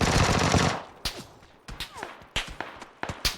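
A burst of rapid gunfire in the video game PUBG gives way to scattered sharp single shots and short volleys, crisp and fairly close, with no talking.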